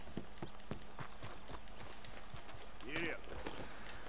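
A horse gallops in Red Dead Redemption 2, its hooves giving a rapid, even clip-clop rhythm at moderate volume, with a brief other sound near the end.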